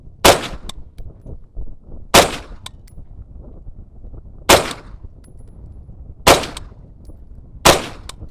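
Five 5.56 rifle shots fired at a car hood from a set distance, each a sharp loud crack with a short metallic ring, spaced about two seconds apart over a low outdoor background with no talking.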